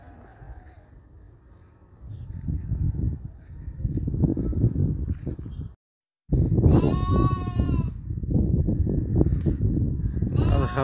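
Arabian sheep at a farm bleat loudly and nearby, one long wavering call standing out among shuffling and rustling livestock noise.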